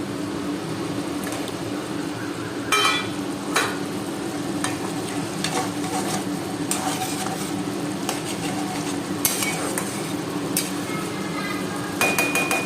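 Potato fish curry simmers and bubbles in a pan in a home kitchen, a steady close hiss broken by occasional clinks and scrapes of stirring.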